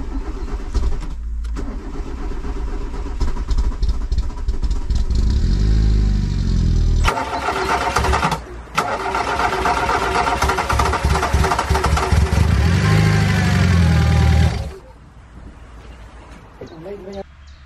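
A Volkswagen Golf 2 turbo engine runs loudly up close, revving and sputtering with a rough, uneven rhythm, cutting out briefly and then dropping to a quieter idle near the end, with people talking over it.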